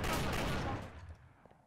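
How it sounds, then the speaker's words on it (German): A quick burst of rapid gunfire from the game Trouble in Terrorist Town, loud at first and then fading away within about a second. "Ich hab schon zweimal Micho geschossen."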